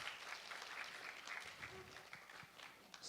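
Applause from a lecture audience, a faint, distant patter of clapping that swells and thins over a few seconds.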